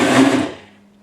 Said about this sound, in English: let the blender run and do its thing